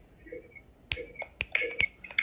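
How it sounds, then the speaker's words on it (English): Finger snaps play back through an Avalonix WiFi nanny camera speaker, sharp thin clicks in an irregular series of about five, with faint tonal feedback ringing between them. "So I'm snapping my fingers here and it's speaking out of there"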